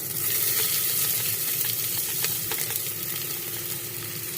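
Oil sizzles and crackles steadily in a pan while green peas curry cooks, a loud, close, continuous frying hiss with small pops scattered through it.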